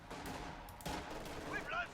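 LMG grenadier squads firing machine guns at riflemen in the Company of Heroes 2 strategy game, faint rattling bursts of gunfire in a busy battle mix with some voices mixed in.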